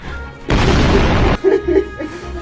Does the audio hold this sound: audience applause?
no